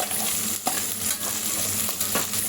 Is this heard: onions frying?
yes